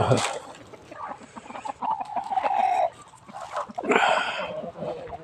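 Chickens cluck and squawk nearby in short, irregular bursts at a Buddhist temple in Lampang, Thailand, with a rooster-like call rising above the flock.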